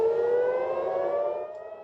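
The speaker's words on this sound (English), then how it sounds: "another sleepless night with missile warning sirens triggered" A missile warning siren wails over Tel Aviv, one loud, steady tone that slowly rises in pitch and holds without a break, with no voices.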